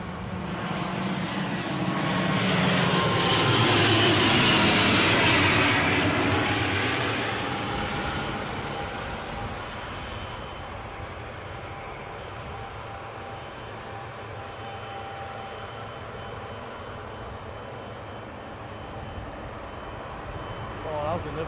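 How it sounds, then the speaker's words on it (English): A fixed-wing airliner lands at Newcastle airport, its engine roar swelling loud and near before easing into a long, steady rumble as it rolls out, with voices talking faintly beneath. "Was another smooth landing."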